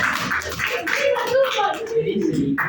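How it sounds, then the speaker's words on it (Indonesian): A small group at a group counselling session claps hands together, soft uneven clapping mixed with overlapping voices and chatter close by. "Tepuk tangan dulu ya."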